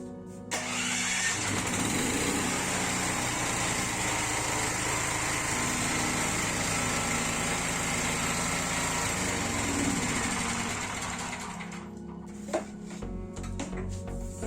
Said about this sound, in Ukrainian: під'єднати шланг до карбюратора, відкрити балон і завести